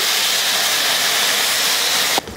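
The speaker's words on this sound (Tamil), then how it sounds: "இதில் தண்ணி சேர்த்துக்கலாம்." A loud, steady hiss of steam and sizzling as water is added to a hot pan of spiced potatoes fills the clip and cuts off abruptly near the end.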